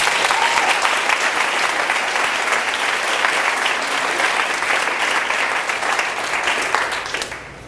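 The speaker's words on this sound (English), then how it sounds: "Please give them a round of applause." Sustained applause from an audience at an evening talk at a farm sanctuary, dense clapping that stays loud and steady before tapering off at the end.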